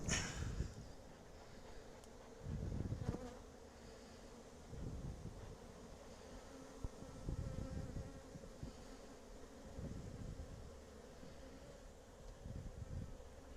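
A honeybee swarm buzzes steadily around a hive as the swarm box is shaken in and the inner cover goes on. The drone is close, continuous and fairly faint, with soft thumps and handling bumps.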